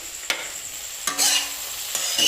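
Potatoes frying in a pan give a soft steady sizzle, with three distinct clanking stirs spaced about a second apart and a short ringing tone after the second.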